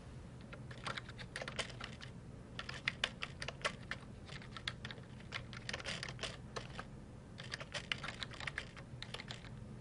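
Rapid, uneven keystrokes on a computer keyboard come in bursts of typing with short pauses, close and clear over a faint steady hum, with no talking.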